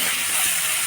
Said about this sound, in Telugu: పాలకూర బాగా ఫ్రై అవుతుంది.